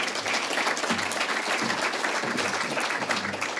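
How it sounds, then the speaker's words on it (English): Diners at a leadership awards luncheon applaud an award recipient, a full, steady roar of clapping that stays strong from start to finish with no talking heard. "please give a round of applause to Matt Walsh,"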